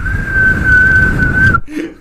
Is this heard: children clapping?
no